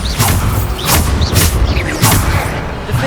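Repeated Bombarda spell blasts in Hogwarts Legacy, several booming impacts with bright crackling bursts recurring roughly every half second over a steady rumbling combat bed, loud and close.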